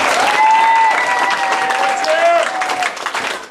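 Audience applause at a martial arts belt ceremony in a family martial arts center, Mount Dora: sustained crowd clapping with cheering voices and a whistle over it, loud and close, easing slightly at the end.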